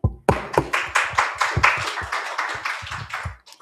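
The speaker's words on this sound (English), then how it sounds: "Once again, let's clap for" A small conference audience claps for a presenter at a parallel session, a burst of distinct, fairly close hand claps that swells and then thins out toward the end.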